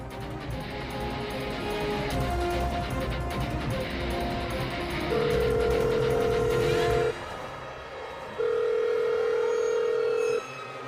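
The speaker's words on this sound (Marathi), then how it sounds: "मी परत एकदा फोन करून बघते" An outgoing phone call goes unanswered, with the ringback tone sounding as two long, steady beeps separated by a pause, following a stretch of background music and room noise.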